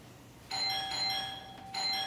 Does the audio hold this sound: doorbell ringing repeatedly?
yes